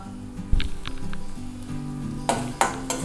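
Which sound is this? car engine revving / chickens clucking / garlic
garlic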